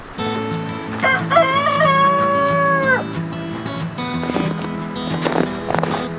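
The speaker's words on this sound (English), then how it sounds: "Good morning, chicken." A rooster crows one long, loud call close by at a New Hampshire farm, forest and garden expo, followed by softer clucking and barnyard noise with no talk.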